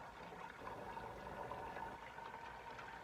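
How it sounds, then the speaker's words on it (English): Sparge water pours steadily over grain in a small one-gallon home-brewing setup, a soft continuous watery rush at low volume with no break. "now we're going to just top our Sparge water"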